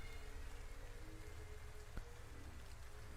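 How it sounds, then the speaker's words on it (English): Steady rain patters outside a deserted school, a soft continuous hiss with a brief sharper tap near the middle and no voices. "listening to the pitter-patter of rain building up outside"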